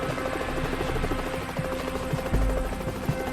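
Marine One, a military helicopter, gives off a steady, close rotor thrum with a fast rhythmic chop and deep low pulses, heard alone.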